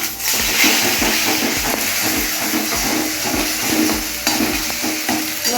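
Egg bhurji stir-fried in a pan at an outdoor picnic cook-up, a loud continuous sizzle up close with rhythmic scraping and stirring strokes of the spatula throughout, no talk.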